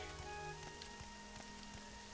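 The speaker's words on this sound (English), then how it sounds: "Get some pretty rain." Rain falls in the video game Morrowind as a steady soft patter with light drop ticks, under a low droning game score with held tones, no voices.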